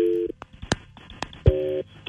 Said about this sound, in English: We're going to make that phone call right now on KDWB.